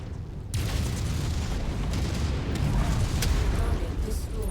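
A missile explosion in a MechWarrior game bursts in loudly and gives way to a dense, sustained rumbling roar that fills the whole stretch, with crackling debris on top.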